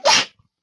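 A single quick sneeze, close and fairly loud, a sharp burst that fades within a third of a second, followed by near silence.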